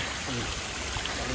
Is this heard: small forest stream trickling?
yes